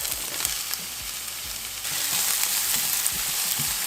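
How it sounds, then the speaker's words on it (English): Onions, garlic and butter sizzle steadily in a hot pan, a dense continuous frying hiss with a few soft clicks of utensils; the sizzle swells a little louder partway through and carries on alone with no talking. "you wanna continue to saute your onions for a good 4 to 5 minutes until you see them go translucent"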